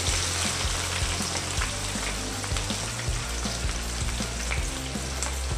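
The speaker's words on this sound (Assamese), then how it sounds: "ভাজাৰ পিছত আমি এতিয়া ইয়াতে পিঁয়াজ দি দিম।" Onions sizzle loudly in an oily pan while poha is being cooked, a dense, steady frying hiss with small pops that runs unbroken, with no voices.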